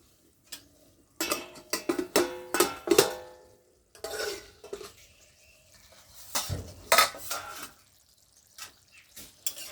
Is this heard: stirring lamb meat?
yes